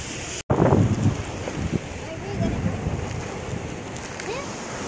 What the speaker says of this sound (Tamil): ஏதோ பெரிய அலை வருதுடாதோ, பெரிய அலை வருதுடாதோ பார்த்தீங்களா